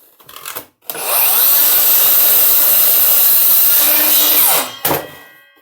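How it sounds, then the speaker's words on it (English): A dual bevel compound miter saw spins up and cuts through wood for a toy tank, a loud steady whine lasting several seconds, then a brief second burst as it winds down. "Very easy to make these cuts with a dual bevel compound miter saw."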